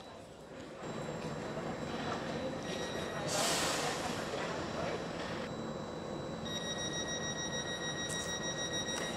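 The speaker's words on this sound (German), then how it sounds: "Es fahren nur einige Züge, so wie hier die RB 175 nach Ria Hauptbahnhof" A regional train (RB 175) rumbles steadily at a German station, with a brief burst of hiss and faint high-pitched squeals and tones over the continuous rolling noise.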